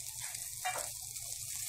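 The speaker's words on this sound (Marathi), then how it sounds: "फोडणीचा ठसका उठलेला आहे" Chopped potatoes go into a sizzling onion tempering for a Maharashtrian potato bhaji, giving a brief, quiet sizzle with a short burst of crackle in the middle and no talking.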